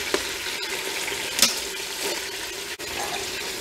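Chicken skin frying in hot oil for a Mongolian hot pot at home, a steady close crackling sizzle with a few sharper pops, no voices.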